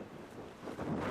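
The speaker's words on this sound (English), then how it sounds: "Does it seem like the wind is picking up?" A rising gust of strong wind roars against the microphone in open Wyoming country, a broad rushing noise that grows louder toward the end with no one speaking.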